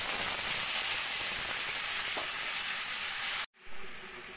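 Spice paste sizzling hard in hot oil seasoned with cardamom and cinnamon, for a doi begun (yogurt eggplant) dish. The frying hiss is steady and loud, cuts out briefly near the end, then returns softer.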